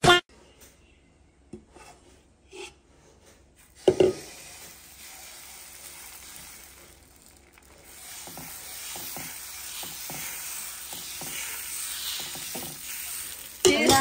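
A dosa cooks on a hot pan, giving a soft, steady sizzle that swells after a few seconds of quieter handling noises, with occasional clicks and scrapes close by.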